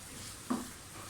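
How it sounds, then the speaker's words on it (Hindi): A milky halwa mixture roasts in a pan over medium-low flame, giving one soft sizzling stir in a quiet kitchen. "मुसलसल भूनें जब तक ये अपना कलर ना चेंज करें।"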